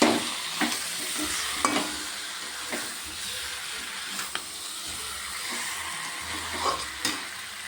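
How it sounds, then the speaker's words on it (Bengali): Meat sizzles steadily while being sautéed with turmeric and spices in a pan, a constant frying hiss broken by intermittent clacks of the spatula scraping the pan, close and fairly loud with no talk. "মাংসটাকে দিয়ে ভালো করে কষিয়ে নেব।"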